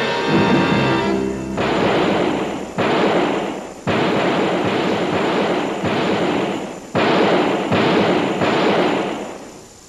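Handguns fire at a police shooting range: about eight loud, sharp reports in an uneven series, each followed by a reverberant tail.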